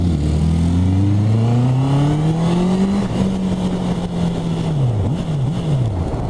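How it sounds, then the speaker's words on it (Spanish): A Honda CB 650 R motorcycle engine revs up loud and close with rising tones, then holds a steady note before dipping and swelling a few times as it is blipped. "Ese sonido me recuerda mucho a las Hondas de antes."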